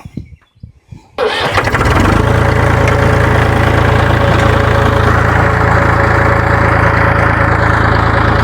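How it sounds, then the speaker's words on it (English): A tractor engine cranks and catches after a moment of quiet, then settles into a loud, steady idle rumble close by. "Okay, get the tractor out of the way."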